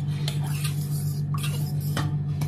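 Ugadi pachadi mixture being stirred in a bowl with a spoon, a few distinct scraping and clinking strokes close by over a steady low hum.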